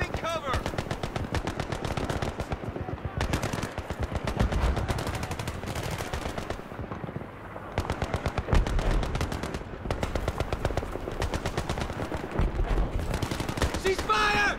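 Constant rapid gunfire from Battlefield 3 fills the scene with dense automatic bursts and single shots, loud and close, with brief lulls, while voices shout over the firing.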